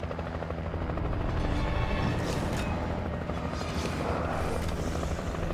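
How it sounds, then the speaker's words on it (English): A helicopter in the video game Alan Wake thunders steadily overhead with a loud, continuous rotor chop filling the scene, with no voices. "Hey, slow that chopper down, girl."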